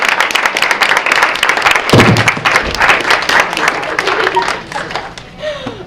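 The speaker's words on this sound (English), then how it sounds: "just a round of applause for Eileen." A round of applause from the audience at a women's panel event, steady clapping for about six seconds with a few thuds, gradually tapering off toward the end.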